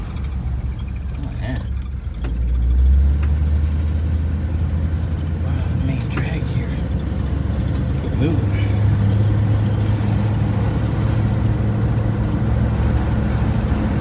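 A 1964 Ford Country Squire station wagon with newly fitted rear brakes drives on the road, its engine giving a steady low rumble and road noise from inside the car, with people talking over it.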